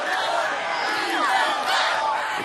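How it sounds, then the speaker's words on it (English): Crowd cheering at a ninja obstacle course as a competitor attempts the warp wall, a steady roar of voices and whoops throughout. "The crowd cheering, beat the wall."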